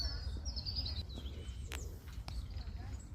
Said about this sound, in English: And the happy birds are singing.